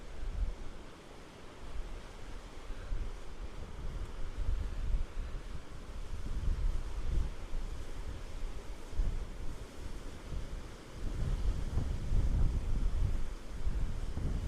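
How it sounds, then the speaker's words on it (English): Wind at a beach with surf rolls steadily across the microphone as low rumbling buffeting that swells and dips in gusts, fairly quiet overall with a constant breezy hiss and no talk. "You can see that wind blowing in behind me."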